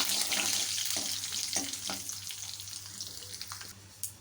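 Dried red chili and curry leaves tempering in hot oil for a lentil dumpling curry give a loud, steady crackling sizzle that slowly eases and thins toward the end, with a few sharp pops and no talking.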